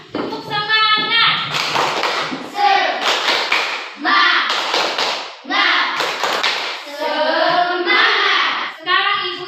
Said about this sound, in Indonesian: Kita tepuk semangat dulu ya, supaya lebih semangat. Tepuk semangat.